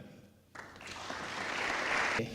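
An audience at a forum on light pollution breaks into applause. The clapping starts abruptly, swells over about two seconds, then cuts off.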